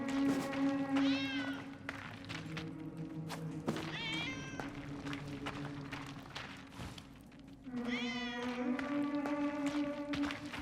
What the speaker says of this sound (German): Wie zum Teufel kommt die Katze hier rein?